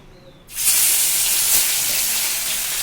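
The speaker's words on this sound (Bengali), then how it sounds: "তেল গরম হয়ে গেছে এবার মাছ ছাড়বো" Parshe fish dropped into hot oil for a mustard-paste curry, giving a sudden loud, steady sizzle and hiss that starts after a brief quiet moment and keeps going close up.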